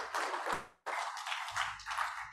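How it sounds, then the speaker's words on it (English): Audience applause for guests from Brazil at a Rotary club weekly meeting in Melbourne, a steady patter of many hands clapping close by, with a brief pause near the start. "why don't we give them a bit of a clap for the people from Brazil"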